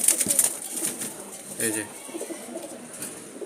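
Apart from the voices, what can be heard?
male wild Jalali pigeon released, cooing and flapping wings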